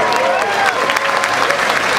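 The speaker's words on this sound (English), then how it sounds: "A big round of applause for the horn players." Audience applause at a rockabilly concert for horn players, a dense burst of clapping with crowd noise, loud and continuous over two seconds.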